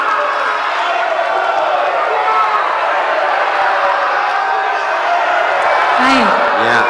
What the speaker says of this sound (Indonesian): Kami berikan kesempatan untuk memberikan tepuk tangan kepada Cawagup nomor urut 2 dan Cawagup nomor urut 3